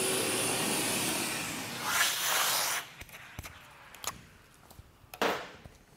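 A vacuum cleaner runs loud and steady during an airflow test, then cuts off after about three seconds, leaving short clicks and handling noises and a brief burst of air near the end.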